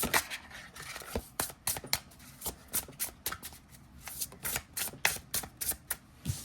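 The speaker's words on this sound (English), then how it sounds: "let's see how it shuffles." A tarot-size card deck being riffle shuffled up close, with a quick run of crisp, papery riffles and flutters repeating in bursts, alone without talk.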